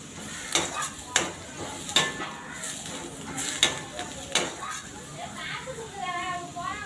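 Onions sautéing in a pan for a ghee egg gravy: a steady close sizzle with repeated clinks and scrapes of stirring, fairly loud and continuous.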